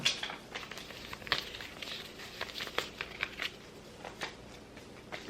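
A deck of cards being shuffled gives fairly quiet, crisp riffling and papery crackles in short irregular bursts, with no talking.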